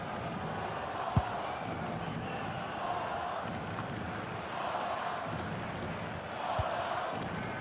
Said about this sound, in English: the crowd indulging in a Mexican wave